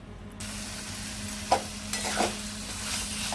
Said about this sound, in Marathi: मसाल्यांमध्ये आहे ना बटाटा चांगला असा परतून परतून घ्यायचा आहे